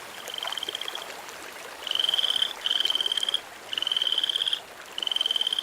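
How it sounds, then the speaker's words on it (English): Frogs croaking in bursts of repeated high trilling calls, several long pulsed phrases with short gaps between them, fairly close and clear over a faint outdoor background. "Here it is, a frog. Can you see it?"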